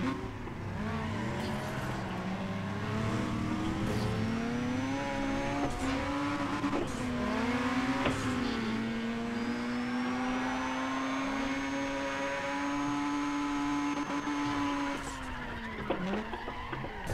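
A Mazda RX-8 rotary engine in the racing game Need for Speed ProStreet holds a high, steady whine that rises and dips with gear changes, with tire squeals and scrapes mixed in, running continuously.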